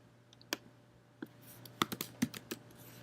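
Typing on a computer keyboard, a sparse run of distinct clicking keystrokes, a few isolated at first and then a quicker cluster, close and fairly quiet.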